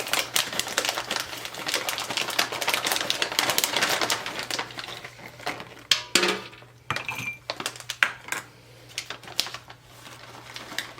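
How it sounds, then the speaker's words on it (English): A bag of strawberry cranberry honey nut granola with almonds, pecans, walnuts and dried fruit is shaken hard, giving a dense, continuous rattling clatter of clusters and nuts close by for several seconds, then breaking into shorter shakes and rustles. "sometimes you need to give the bag a good shake"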